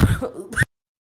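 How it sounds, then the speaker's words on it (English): A brief, close cough sounds once or twice in quick succession, followed by silence. "Sorry, I was coughing."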